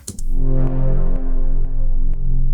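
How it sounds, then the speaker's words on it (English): A melodic house bass progression sits on the root note with a fifth added above it, sustained and loud, with a few short plucked hits repeating at a steady rhythm over the held low tones. "using the root note for your bass progression, but if you want, you can add a 5th interval above that as well"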